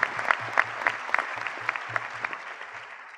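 A convocation audience applauds a high-achieving graduate in a large hall, giving steady, moderately distant clapping with a few sharper individual claps standing out.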